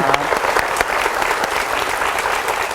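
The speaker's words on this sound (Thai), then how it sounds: "ขอเสียงปรบมือให้ด้วยนะฮะ" Studio audience on a Thai television show applauds steadily, a dense, even wash of clapping that holds at full strength throughout with no voices over it.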